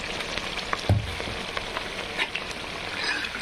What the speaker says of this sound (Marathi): मला वाटतं ग्रेव्ही फ्राय झालेली आहे